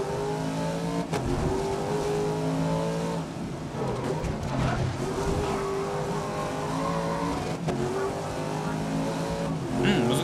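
Racing car engine in GRID 2019 revving and holding steady at high pitch for the whole stretch, loud and continuous, with someone talking over it.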